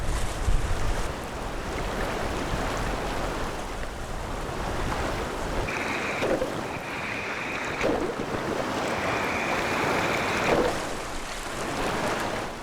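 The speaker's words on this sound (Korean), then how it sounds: "파도는 수많은 생명의 이동을 관장하고 바다의 모래를 육지로 전달한다" Storm-driven ocean waves break continuously on a sandy shore by coastal dunes, a loud, dense roar of surf with strong wind noise and no voices.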